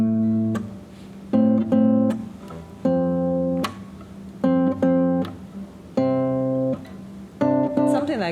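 An electric guitar plays over a looper pedal's recorded harmony. Sustained notes and chords ring out in separate phrases, each held and then cut, with the layered loop tones underneath and a rising run at the end.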